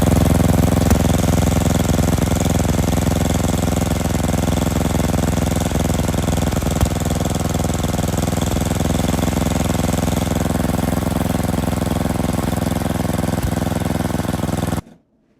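A snowblower engine with a newly replaced carburetor runs close by in a steady, even idle drone for about fifteen seconds, then stops abruptly.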